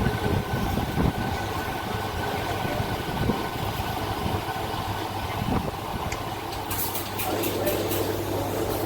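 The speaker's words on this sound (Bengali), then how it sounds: "এই মুহূর্তে আমাদের ট্রেন পৌঁছে গেছে দাসনগর স্টেশনে" A local train rumbles and hums steadily at close range as it arrives at Dasnagar station, with a faint hiss and a brief high squeal toward the end as it slows.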